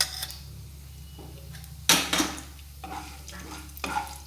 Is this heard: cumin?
yes